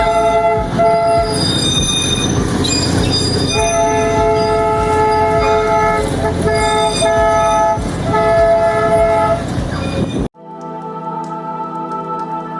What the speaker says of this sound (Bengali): ওই সময়টা কিন্তু আমরা টয় ট্রেনের দেখা পেয়েছি